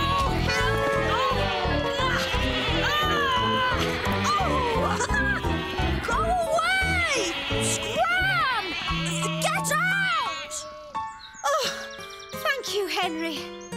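Cartoon sheep bleat repeatedly in a children's animated show, wavering calls layered over background music and jingling tones, loud and close throughout.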